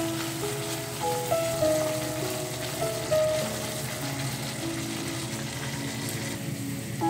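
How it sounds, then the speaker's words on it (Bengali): Evaporated whole-milk mixture for milk cake (kalakand) splatters in a pan under a shielding lid while being stirred, giving a steady crackling sizzle with soft melodic tones playing in the background. "এই পর্যায়ে মিশ্রণটি খুব ছিটাবে"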